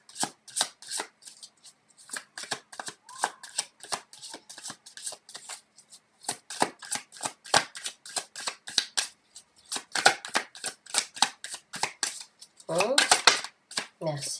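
Tarot cards are shuffled close up in a quiet room, a long run of crisp, rapid riffling flicks in uneven bursts, ending in a denser flurry.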